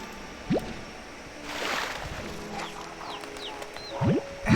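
Chickens in the Slime Rancher 2 video game cluck and squawk in short rising calls, a few scattered bursts over a soft ambient game background with trickling sounds.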